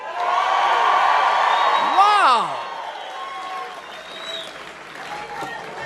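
A large crowd at a campaign rally in Greenville, North Carolina applauds and cheers loudly, a dense roar of clapping with a rising whoop that gradually eases into a lower hum of voices, and someone speaks over it.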